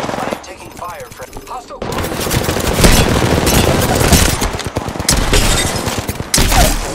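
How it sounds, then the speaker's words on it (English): Automatic gunfire bursts in the Apex Legends battle royale game, loud and dense, rattling almost continuously after a quieter opening with brief in-game voice callouts. "Taking shots. I am taking fire, friend."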